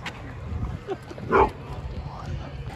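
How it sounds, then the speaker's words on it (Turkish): A dog barks once, sharply, at a passerby near a running trail by Ponce City Market in Georgia, a single short burst amid faint background murmur and talk. "Arkadaşlar gördüğünüz köpekler tarafından saldırıya uğradım."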